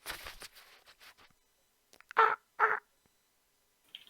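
Two harsh raven caws, close and fairly loud, follow a stretch of soft speech-like sound, with a faint higher call near the end.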